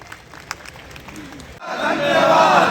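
Crowd at a political rally in Khatima, Uttarakhand breaking into loud applause and cheering, starting with faint scattered sounds and swelling abruptly into a dense roar of clapping and shouting midway.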